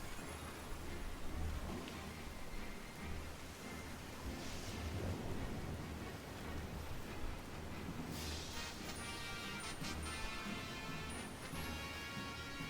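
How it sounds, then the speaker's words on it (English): Rain and rumbling thunder from the weather in the Pokemon Violet video game, a steady faint wash of rainfall with low rolling rumbles and a brighter patter later on, no speech. "this rain has lasted quite a while"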